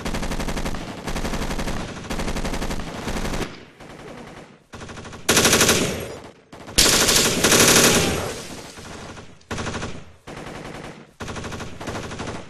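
Squad of soldiers firing rifles and machine guns during a basic training assault on an enemy over a hill, with sustained loud bursts and volleys broken by short pauses.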